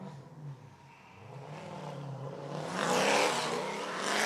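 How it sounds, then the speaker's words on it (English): A drift car with an LS engine at a drift event revs hard, its engine note climbing and surging louder toward the end as the clutch is kicked, a close, continuous roar without talk. "You can hear him clutch kicking"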